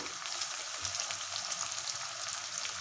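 Onions, green chilies and a single tomato fry in hot oil, giving a steady, even sizzle that hisses on without pause and with no voices.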